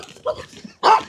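A dog barking at another dog, a sharp loud yap up close after softer whimpering and muffled movement.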